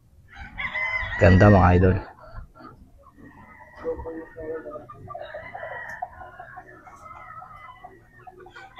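A Boston Roundhead gamefowl rooster lets out one loud, close crow early on, followed by someone talking over faint background clucking and farmyard sounds.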